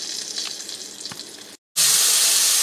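Cube steaks browning in a skillet, a steady close sizzle and crackle of frying meat with a few faint clinks, broken by a brief cut before the hiss returns louder and brighter.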